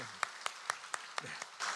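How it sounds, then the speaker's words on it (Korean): A church congregation at a Sunday worship service applauds in blessing. The clapping comes as a few soft, evenly spaced claps that are fairly faint and distant, rising into a brief burst of fuller applause at the end. "우리 한번 축복의 박수하도록 하겠습니다"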